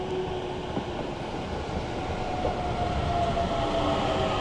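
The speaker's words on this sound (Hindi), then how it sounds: "दिख गई होगी ना ट्रेन आपको। इलेक्ट्रिक ट्रेन है ये," A Hitachi Limited Express electric train pulls into a station with a steady, loud rolling rumble and faint wheel squeal, fairly close and with no talk over it.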